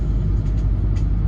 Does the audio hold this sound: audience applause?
no